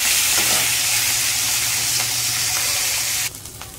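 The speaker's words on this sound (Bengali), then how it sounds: "আমি কালো জিরে, আদা আর শুকনো লঙ্কা ফোড়ন দিয়েছি" Black cumin, ginger and dried chilli tempering sizzling in hot oil with a fried fish head, a loud steady hiss of frying close by that drops abruptly near the end, with no talk.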